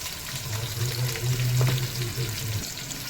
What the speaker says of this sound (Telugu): ఒక 5 ఇలాచీ వేసుకొని ఇలాచీని కూడా బాగా ఫ్రై చేసుకోవాలి